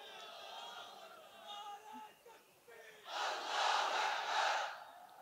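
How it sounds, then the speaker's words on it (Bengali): A crowd shouts the takbir slogan in unison, a loud, massed chant that swells in the latter half after a single voice calls out and the crowd answers at a distance. "জোরে বলেন লিল্লাহে তাকবীর"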